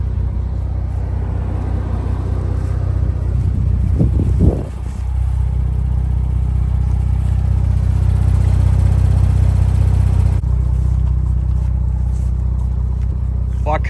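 A Ford Bronco Raptor fitted with RPG lift collars driving on the road, with a steady low engine and road rumble heard from inside the cabin and a brief shift in tone midway, while people talk quietly.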